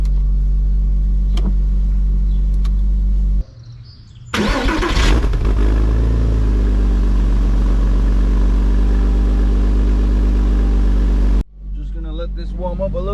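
A Scion FR-S with its FA20 boxer engine and 75,000 miles cranks and fires up loudly, then settles into a steady, close idle that runs for several seconds before the sound drops away.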